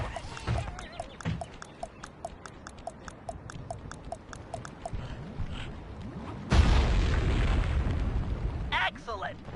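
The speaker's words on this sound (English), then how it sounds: "Place the dynamite when you get near the anchor, or kaboom!" An in-game dynamite blast from Sly 3 erupts suddenly near the end as a loud, broad boom with a rumbling tail, following a stretch of rhythmic ticking effects and game chatter.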